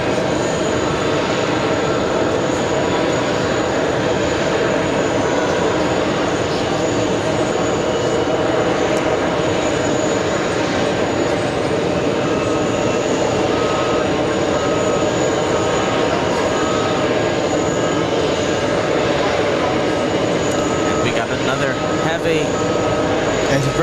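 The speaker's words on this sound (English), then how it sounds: "It's Virgin Atlantic flying to London." A Virgin Atlantic airliner departs JFK airport bound for London, a long, loud, steady jet engine roar that stays strong throughout, with people talking faintly underneath.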